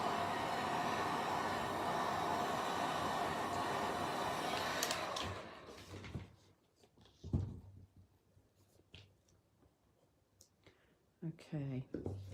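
Heat gun fusing encaustic wax, a steady, loud blowing whoosh for about five seconds that then cuts off, followed by quiet handling clicks and soft speech.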